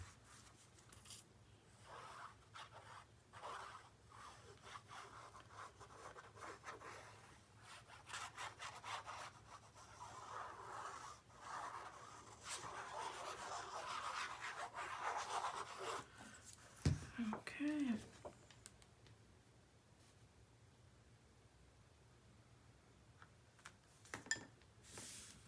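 Paper element for a Stamperia Romance Forever mini album being burnished, a quiet, close rubbing and scraping that swells in repeated strokes before fading, with a few light taps and clicks.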